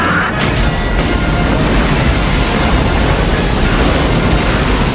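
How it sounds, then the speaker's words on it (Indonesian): Car bomb detonating in a Battle Royale film scene, a loud continuous broadband roar of explosion and rumbling debris that fills the whole stretch without pause. "Mimura membuka pengunci bom sehingga mobil itu meledak."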